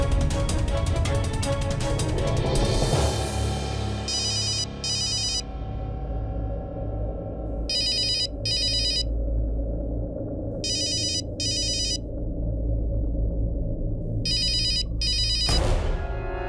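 Phone ringing in a Hindi TV drama scene: repeated electronic ringtone bursts in regular pairs over a loud dramatic music bed, with no speech.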